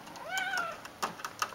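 A cat climbing at a window gives one clear, drawn-out meow, fairly close, followed by a few soft taps and rustles; no one speaks.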